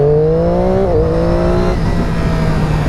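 A Triumph Daytona 675R sport bike accelerates hard, its loud engine note rising, dipping briefly at a quick-shifted gear change, then climbing again before fading into a steady drone.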